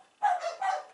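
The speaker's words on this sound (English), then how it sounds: "excuse the dogs in the background" Dogs excited after dinner bark in the background, two quick clear barks in rapid succession, moderately loud against an otherwise quiet room.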